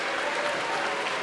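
A debate audience breaks into steady, dense applause, a loud continuous wash of clapping from a large crowd without a break.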